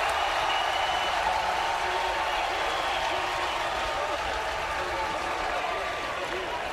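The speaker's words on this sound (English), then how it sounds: "the supporters of this Orlando Storm team making a little bit of noise" A steady wash of crowd noise from Orlando Storm supporters at a UFL semifinal football game in a Daytona Beach stadium, sustained throughout beneath a commentator's voice.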